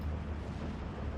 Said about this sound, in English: An artillery piece hit us there, I think it was.